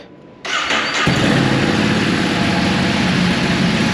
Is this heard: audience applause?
no